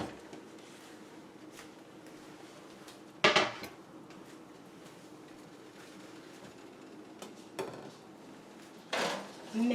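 Chopped vegetables go into a pan with extra virgin olive oil for a vegan stir fry, heard as a few sharp close clattering knocks and scrapes of pieces and utensils against the pan over a quiet background hiss.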